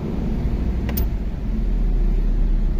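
A car engine idles with a steady low rumble close by, with a short high click partway through and no voices.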